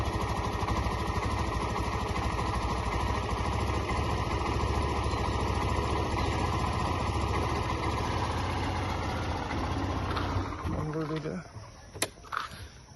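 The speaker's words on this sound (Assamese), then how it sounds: "Exhaust sound." Red Assam government scooter idling, its exhaust giving a continuous close putter that drops off near the end, followed by a couple of brief knocks; a voice is heard speaking over part of it.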